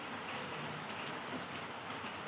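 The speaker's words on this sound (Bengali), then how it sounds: "খুব বাইরে বৃষ্টি হচ্ছে" Steady rain pours down, a dense continuous patter heard from indoors, fairly faint and even throughout.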